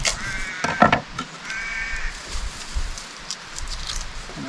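Crows caw outdoors in the evening at a creekside wild camp, a couple of clear harsh calls early followed by fainter ones under a soft rustling background.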